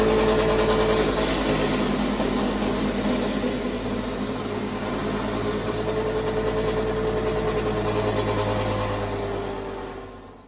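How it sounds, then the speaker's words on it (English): A belt sander runs steadily for about ten seconds, smoothing a curved plywood edge for a small 8ft boat, a continuous close, loud droning whine that tapers off at the very end. "I'm going to use the belt sander behind me just to smooth everything off up to the line"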